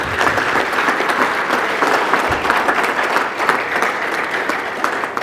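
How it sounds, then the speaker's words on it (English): An audience at an Ethiopian orthopedics and trauma society award ceremony applauds loudly and continuously, a dense wash of clapping from many hands throughout. "Round of applause."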